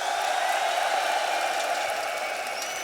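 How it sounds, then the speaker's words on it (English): Large arena crowd at an esports grand final in Lisbon cheering and applauding, a steady, distant wash of roaring voices and clapping with no single voice standing out. "If you're cheering for Vitality, make some noise!"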